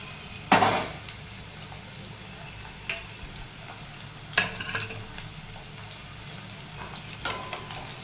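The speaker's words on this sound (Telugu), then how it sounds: "ఇవన్నీ సిమ్లోనే పెట్టి తాలింపు అనేది వేయించుకోండి." Garlic and dried red chillies hiss in hot tempering oil on low heat for a tomato chutney, with a few brief sizzles and spoon stirs in an otherwise quiet kitchen.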